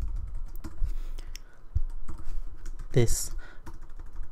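Computer keyboard typing as JavaScript code is entered, a close, irregular patter of key clicks under a brief spoken word.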